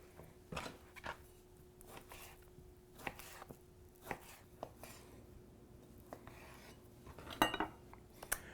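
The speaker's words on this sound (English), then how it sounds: "So let's get to dicing up the meat here." Knife dicing beef and kielbasa on a cutting board for burger patties, giving sharp, irregular chops with scattered knocks, fairly quiet and close with no talking.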